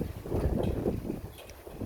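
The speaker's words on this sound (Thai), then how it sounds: "ลมพัดแรง ฝนจะตก" Strong wind ahead of rain buffets the microphone with a steady low roar and gusty rumbles, continuous throughout with no voices.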